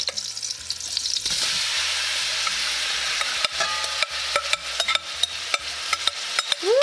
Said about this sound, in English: Now what I'm doing is searing